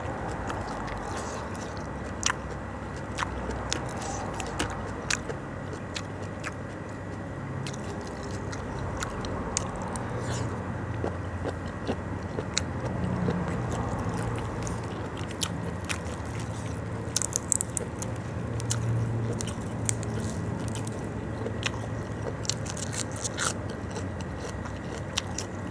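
Someone bites and chews raw vegetables dipped in a bitter chili dip, with steady crunchy bites and mouth noises repeating up close for the whole stretch.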